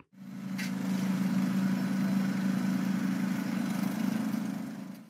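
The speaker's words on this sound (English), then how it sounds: "Trencher." Trencher construction vehicle engine running at a steady idle, a continuous low droning hum that holds evenly for several seconds with no voices.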